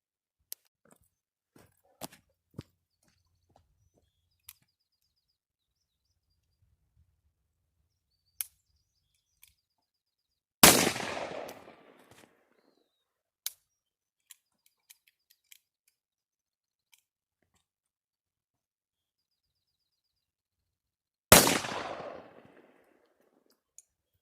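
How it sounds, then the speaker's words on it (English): Two loud revolver gunshots fired at targets with an old or new Navy Colt revolver, spaced about ten seconds apart, each with a short echoing decay, amid faint clicks and handling noises. "try to at least shoot the last 2 rounds at the last 2 targets"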